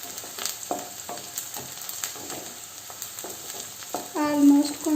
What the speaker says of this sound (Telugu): ఆనియన్స్ బాగా ఫ్రై అయిపోయాయండి.